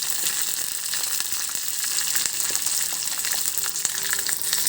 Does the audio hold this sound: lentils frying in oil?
yes